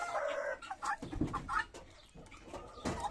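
Chickens cluck in a henhouse with a turkey nearby, giving several close, irregular clucks and squawks that overlap in a busy chorus.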